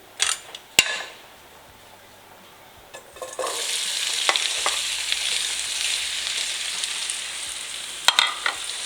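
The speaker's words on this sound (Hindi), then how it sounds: "अब आलू को अच्छे से फ्राई करेंगे" Cubed potatoes and nigella seeds drop into hot oil and fry in a pan. A few sharp clatters of utensils come first, then a steady close sizzle rises and holds, with occasional knocks and scrapes and no talk.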